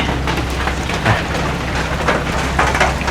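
Steady rain pours down in a dense, continuous hiss with scattered heavier drops spattering on surfaces, close and loud, with no voices.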